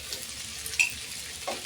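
Chicken goes back into a pan of hot chicken oil for adobo, giving a faint, brief sizzle with a soft hiss and a small clink, heard close with no voices.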